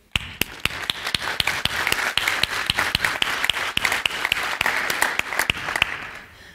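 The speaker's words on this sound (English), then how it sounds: "So let's give them a round of applause, please." A conference audience gives a round of applause, with sharp, loud individual claps from someone close by ringing out over a softer, continuous bed of clapping from the wider crowd.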